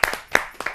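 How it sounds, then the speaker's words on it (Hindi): A few scattered hand claps from a small audience at a Hindi poetry gathering, greeting an arriving poet; short, close, irregular claps that are over in under a second. "मैं जोरदार तालियों से इनका स्वागत करता हूँ।"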